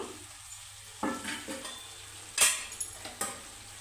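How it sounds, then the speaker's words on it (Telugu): Chopped tomatoes tipped into a hot pan for chicken curry, with a soft sizzle, spoon scrapes and a few clinks of utensil against the pan, some sharper knocks near the end. "ఇప్పుడు నేను ఇందాక కట్ చేసి పెట్టుకున్న టమోటాలు అయితే వేసేస్తున్నాను"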